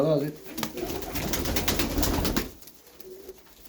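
Batman domestic tumbler pigeons, a rose-patterned, heavily feather-footed breed kept in an earthen coop, coo nearby in soft repeated throaty bursts that fade into a quieter spell near the end.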